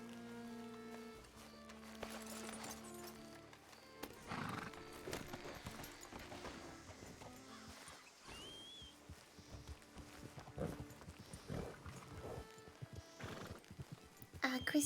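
A horse neighs and its hooves clip-clop amid a busy scene with other sounds, people talking now and then, fairly quiet overall.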